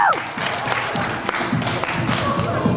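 Game show audience clapping and cheering for a contestant, a dense burst of applause with scattered thumps, over a host talking.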